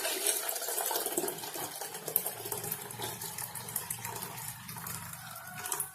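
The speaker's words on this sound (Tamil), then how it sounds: "இது கூட தேவையான அளவு தண்ணி சேர்த்துக்கிறேன்." Water is poured steadily into blended buttermilk in a clay pot for neer mor, a close, continuous splashing trickle that eases slightly toward the end, with no talking.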